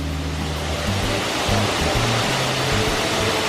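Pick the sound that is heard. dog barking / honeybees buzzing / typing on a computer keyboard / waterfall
waterfall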